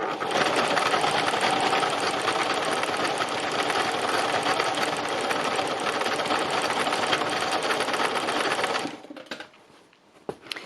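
A sewing machine runs a steady, continuous straight stitch across a fabric seascape for several seconds, a fast even whirring rattle that stops near the end, followed by brief handling noises.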